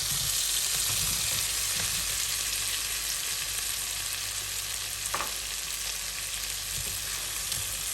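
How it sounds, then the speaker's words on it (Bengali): Fried small-fish kofta balls go into a pan of thick, well-cooked curry gravy, giving a steady, close sizzle and hiss throughout with a few soft stirring knocks, no voices. "এখন আমি দিয়ে দিব ভেজে রাখা কুপ্তাগুলো"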